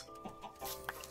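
Blocky game chickens cluck in a pen in Minecraft, several short clucks scattered over a steady background tone, moderately close.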